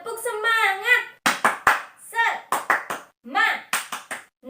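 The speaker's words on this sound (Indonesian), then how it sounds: "Kita mau tepuk semangat dulu ya teman-teman." Children in an Indonesian preschool class clap a rhythmic spirit cheer, sharp close hand claps in quick patterned bursts alternating with an adult voice leading the chant.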